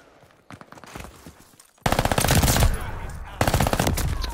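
Armaguerra 43 submachine gun from Call of Duty Vanguard firing in rapid automatic bursts, a short quieter burst first, then loud sustained full-auto fire with a brief pause before another close burst.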